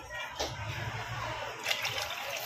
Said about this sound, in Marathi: तर अजून थोडं पाणी मी टाकणार आहे.